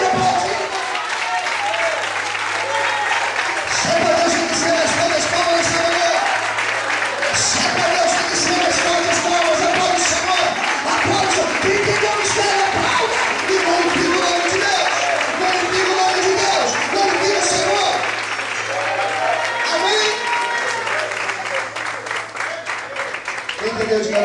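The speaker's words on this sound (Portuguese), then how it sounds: "Você pode aplaudir?" Church congregation applauding during a Portuguese-language sermon, steady dense clapping filling the whole stretch with crowd voices and a low hum underneath.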